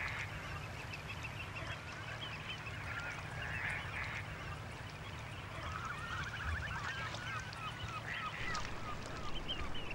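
Seashore birds call at the water's edge on mudflats, with repeated honking and chattering calls coming from a flock over steady background noise and a low hum.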